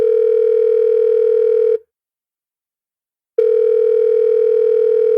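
A telephone tone drones in a steady, loud electronic buzz for under two seconds, cuts to silence for a moment, then resumes, like an incoming call's repeating ring pattern.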